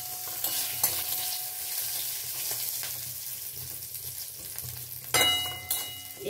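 Whole tempering spices fry in a pan for a lau dish, a soft steady sizzle with occasional stirring taps and a louder scrape burst near the end.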